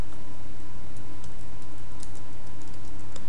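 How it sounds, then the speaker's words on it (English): Computer keyboard typing, a run of small light ticks over a steady loud hum, no speech. "you type something"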